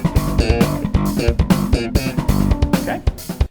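One-bar bass groove in 19/16 from a song's guitar solo section, a short, punchy repeating riff with uneven accents and percussive attacks, loud and upfront for a few seconds.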